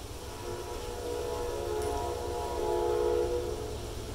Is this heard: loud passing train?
yes